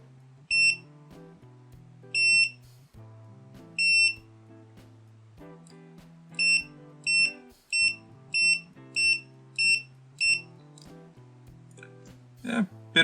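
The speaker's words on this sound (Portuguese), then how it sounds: "Vamos terminar com o teste de continuidade aqui." Repeated high-pitched beeps from an ANENG 622B multimeter on its continuity test setting, sounding in short bursts, first spaced and then in a rapid regular series, over a low background hum.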